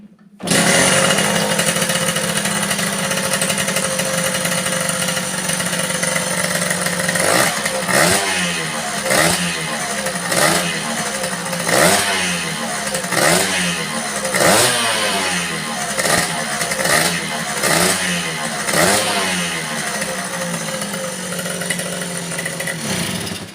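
A motorcycle engine converted from 6 to 12 volt electrics runs close by, a loud continuous idle that breaks into a rhythmic pulsing chug of repeated revs for the second half.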